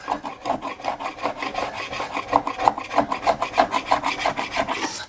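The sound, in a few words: scrubbing glue residue off a wide tray with isopropyl alcohol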